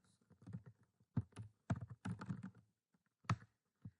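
Keys clatter on a computer keyboard as code is typed during a Node.js programming session, coming in close, uneven bursts of clicks with short pauses between them.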